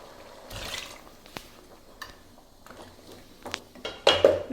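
A metal lid is set onto a cooking pot of sambar with vegetables and water, giving a few short clinks and clatters spread across the moment, with a louder metallic rattle near the end.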